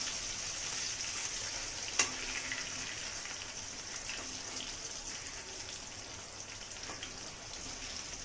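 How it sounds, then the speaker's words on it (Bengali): Potatoes frying in a pan for a vegetarian potol paneer dish, a steady close crackling sizzle that runs throughout, with one sharp click near the start. "লাল লাল করে আলুটাকে আমি ভেজে নেবো"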